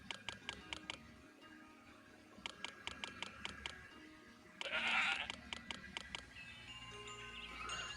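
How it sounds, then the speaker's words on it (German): Sheep and goats bleat in the Zeus city-building game, several rapid bleating bursts repeating in clusters over a soft ambient game background, with one louder, denser burst partway through. "So, das sind genug Schafe und noch ein paar Ziegen."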